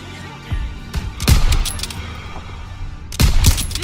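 Gunfire in the World War II shooter Call of Duty WWII breaks out in short, sharp volleys, with a few isolated shots followed by two dense bursts of rapid fire against quieter battle ambience.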